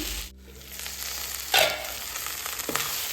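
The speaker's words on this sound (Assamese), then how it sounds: "আৰু অকণমান সময় ভাজি ল'ম" Leafy greens and flowers frying in a pan over a low flame, a continuous close sizzle with a scraping stir and a brief louder hiss partway through.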